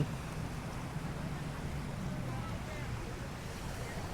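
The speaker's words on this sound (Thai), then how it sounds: "ลมก็แรงซะเหลือเกิน" Strong wind sweeps across Pattaya beach, buffeting the microphone with a steady, low roar that holds throughout.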